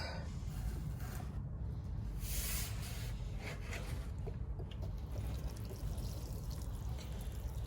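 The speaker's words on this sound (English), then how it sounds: "So it's a very fine rose on it for watering seeds. Now I'll probably still pour it all around the place." A watering can fitted with a very fine rose sprinkles and pours water over sown seeds in a garden bed, making a steady, continuous hiss and patter close by throughout, with no talking.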